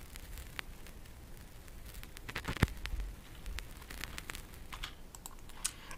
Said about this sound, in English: And then I added some vinyl crackle because it's a lo-fi song.